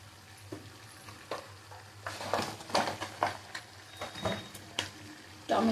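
Nearly cooked meat coated in soy, chilli and tomato sauces is stir-fried in a pan: a low, constant sizzle broken by repeated close scraping strokes of a spatula.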